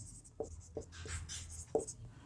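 Pen or chalk writing out a solution by hand: a few scratchy strokes with short tapping contacts, close and fairly quiet, with no one talking.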